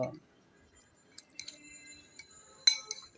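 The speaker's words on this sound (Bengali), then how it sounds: "সব গুঁড়ো মশলা চামচের সাহায্যে আবারও নেড়ে চেড়ে ভালোভাবে মিশিয়ে নেব" A spoon stirs ground spices into raw chicken, producing faint, sparse clinks and soft squishy scrapes against a glass bowl in a quiet room.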